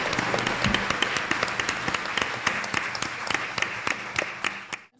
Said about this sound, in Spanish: Bueno, regálense un aplauso por haber estado valientes hoy aquí.